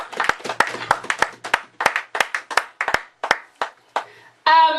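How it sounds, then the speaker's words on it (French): A church congregation claps for the Lord in loud, uneven bursts of hand-clapping that thin out toward the end, followed by a short vocal sound. "Acclamons pour le Seigneur."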